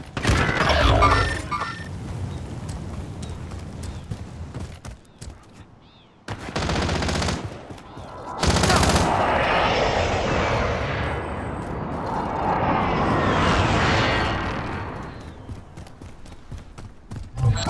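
Bursts of rapid gunfire crackle in a Call of Duty: Modern Warfare Rebirth Island match, with sharp loud volleys separated by swelling engine-like whooshes, no talk over them.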